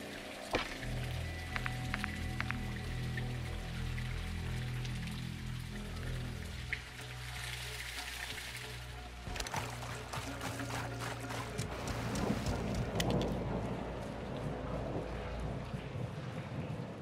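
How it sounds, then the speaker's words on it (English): Heavy rain pours steadily in Call of Duty Modern Warfare II, a dense, loud hiss that fills the whole stretch, with low rumbling game sounds beneath and a sharper burst of activity near the middle. "It's raining fucking hard."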